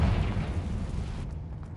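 The Confringo fire spell from Hogwarts Legacy detonates in a loud, close, sustained roaring blast. The sound holds broad and heavy for about a second, then cuts off sharply.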